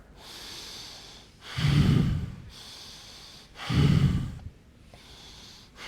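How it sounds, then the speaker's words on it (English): Fire-breathing exercise: a person draws in and pushes out deep, forceful breaths through the nose and mouth, two loud rushing exhalations standing out against softer breaths, close and without talk. "Fire breathing. Ready? 3 deep breaths in."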